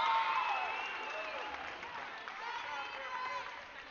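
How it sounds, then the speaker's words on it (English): A high school girls volleyball crowd cheers after a rally, with voices rising and trailing off at moderate distance and a bright, thin quality. "you hear the crowd enjoyed loving seeing that"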